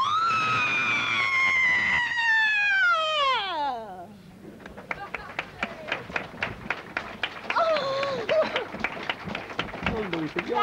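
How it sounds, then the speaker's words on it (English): A woman lets out a long, loud, falling scream after a countdown before a convention audience, followed by scattered clapping and cheering in the hall. "That was a scream."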